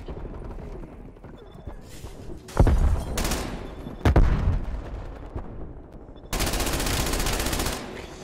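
A PPSh submachine gun in the shooter Black Ops Cold War fires several loud rapid bursts, one sustained stream near the end, with quieter game noise between them.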